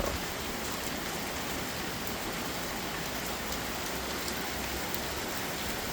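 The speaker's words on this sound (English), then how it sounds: "I love a rainstorm." Steady, dense rainfall pours down without a break, a broad even hiss of drops striking surfaces close by, with no voices present.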